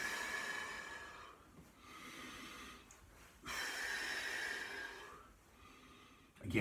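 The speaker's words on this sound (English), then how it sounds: "again, I'm overemphasising the breathing." Exaggerated, forceful breathing during a qigong exercise, long audible inhales and exhales repeating close by with short gaps between them.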